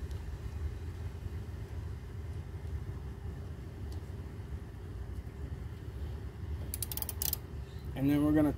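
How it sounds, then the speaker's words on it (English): A wrench tightens a nut against a backing nut on a Briggs and Stratton riding mower that has been backfiring. Quick ratcheting clicks sound near the end over a steady low background hum. "And then we're gonna tighten it while holding that backing nut."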